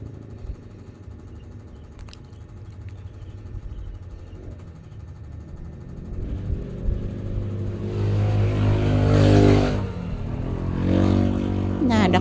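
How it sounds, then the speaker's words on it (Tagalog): Several motorcycles pass by on a road, engine noise building from a low rumble to a loud, close roar around the middle and end, with a second pass following. "Daghang kay mga motor nangagi"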